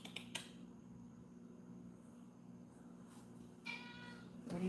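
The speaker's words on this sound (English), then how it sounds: "You might hear Phoebe. She's my cat" A pet cat meows a few times indoors, faint and brief against a low steady hum of room background, with no talking over it.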